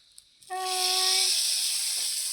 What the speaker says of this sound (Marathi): अशी आपण ह्याला फोडणी देत आहोत